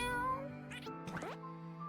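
A cat meows in a video game, a short bending cry heard twice against a sustained background music tone, fairly faint and with no talking.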